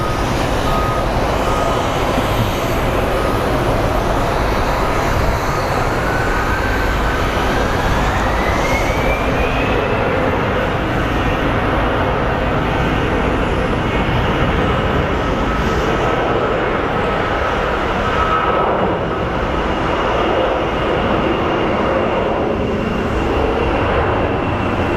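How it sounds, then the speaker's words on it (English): An American Airlines airliner on flight 561 to Portland at Phoenix Sky Harbor International Airport gives a steady, loud broadband jet roar that runs unbroken throughout, with a faint whine rising partway through. "So we are looking at American Airlines flight 561 that's headed to Portland."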